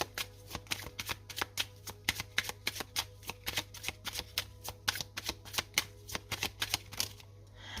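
Tarot and Lenormand cards are shuffled in quick, rhythmic bursts of crisp riffling snaps, close and fairly quiet, with a low steady hum underneath and no talking.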